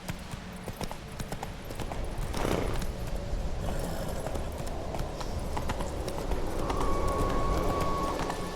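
Roach, Geralt's horse in The Witcher 3, trots along with steady rhythmic hoofbeats under a layer of game ambience and background noise, moderately close.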